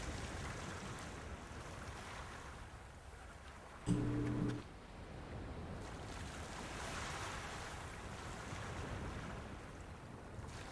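Ocean waves wash onto a beach in the point-and-click adventure game Secret Files 2, a steady surf roar with wind throughout and a brief louder burst partway through.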